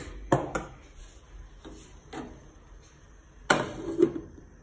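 A lid set onto a pan of frying peas and lentils: a few sharp metallic clinks and knocks, spaced apart and fairly close, over a faint background sizzle, with no talking.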